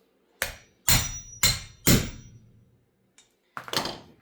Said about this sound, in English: I'm probably going to have to use this bearing to drive it in all the way.